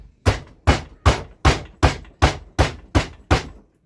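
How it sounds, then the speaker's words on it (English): Nine evenly spaced taps of a rubber hammer or dead blow on a Poulan 3750 chainsaw to split its case, each a sharp, close thud in a steady rhythm. "And use a rubber hammer or dead blow, whatever you got."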